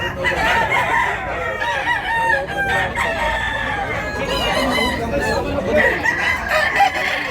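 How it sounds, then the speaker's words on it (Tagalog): Roosters crowing repeatedly alongside clucking chickens at a gamefowl yard in Tabunok, Cebu, loud and close, with people chattering underneath. "Quality manok."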